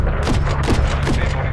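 Rapid gunfire bursts from the Call of Duty: Modern Warfare III (2023) video game crack out loud and close in several quick repeated volleys, with no voices.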